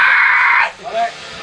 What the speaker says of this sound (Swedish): Vilken skrik det är.